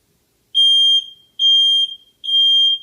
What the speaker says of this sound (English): We have 2 more smoke alarms in the house.